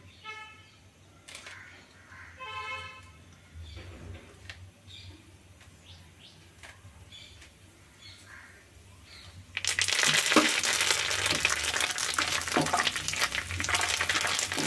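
Quiet chirps and small clinks give way to a sudden loud, steady sizzle as leaves hit hot oil, hissing and crackling continuously.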